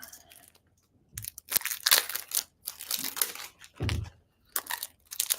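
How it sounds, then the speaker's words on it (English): Scissors cut into and open the plastic and cardboard packaging of a tarot deck at close range, with irregular bursts of crinkling, crunching and snipping separated by brief pauses. "Just need some scissors to get it started off."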